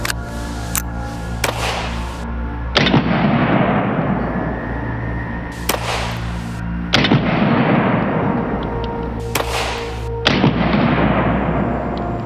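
Rimfire rounds fired at a sturdy padlock, with sharp loud cracks that ring out and echo, coming in groups over several seconds with pauses between them and nobody talking.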